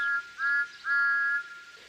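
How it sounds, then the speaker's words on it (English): Two short high whistle peeps sound in quick succession, clear and steady-pitched, followed by fading quiet. "Peep, peep, peep! Where is the conductor?" whistled Thomas."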